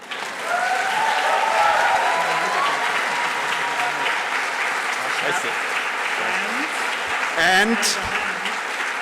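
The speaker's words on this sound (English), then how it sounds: "Now, prepare for the only important applause." Conference audience at an opening ceremony breaks into sustained loud applause that fills the room, with a brief voice heard near the end.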